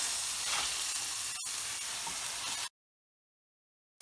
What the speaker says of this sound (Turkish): kısık ateşte malzeme aşağıda kalacak ve ıspanağımı ekliyorum